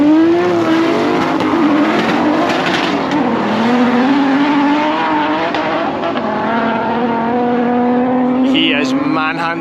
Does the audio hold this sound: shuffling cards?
no